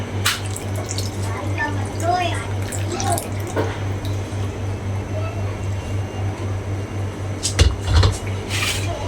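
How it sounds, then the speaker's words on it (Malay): Tamarind water is poured into a pot of fish head curry, a quiet trickle under kitchen clatter, with a couple of sharper knocks near the end as a person talks. "Kita masukkan air asam."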